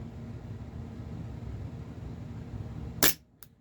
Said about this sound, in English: That might have shot 2 BBs.